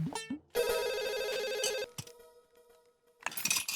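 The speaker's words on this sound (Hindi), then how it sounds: "माधवी भाभी को फोन करके बोल दो तुम बाहर जा रहे हो।" A telephone rings indoors at night in a home, a steady electronic ring sustained for over a second, then a softer continuing tone and a second burst, fairly clear with no talking over it.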